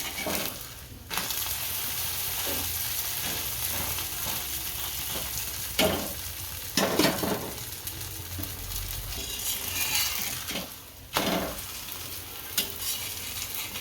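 A sweet pudla pancake cooks in a pan with a continuous close sizzle, broken by several loud bursts of scraping and stirring from a spatula.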